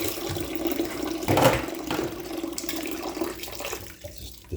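Tap water runs steadily into a kitchen sink while dishes are rinsed, a close, broadband splashing rush with a brief louder surge near the start.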